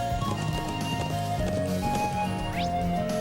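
Horse hooves clip-clop in the RPG Trails of Cold Steel during a sheep-herding ride, a steady trotting beat underneath a busy, layered game music and ambience bed.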